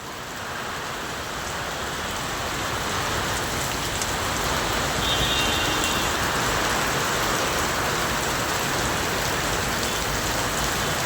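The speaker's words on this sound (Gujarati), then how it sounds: "ખતરનાક વરસાદ ચાલુ છે" Steady, heavy rain in Bahucharaji, Gujarat, pours down without a break, a dense, close hiss of drops hitting surfaces that holds at the same loud level throughout.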